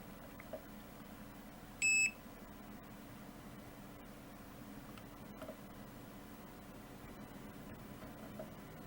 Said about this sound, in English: I'll just go on go with a continuity beeper here because we're going to look for solid continuity.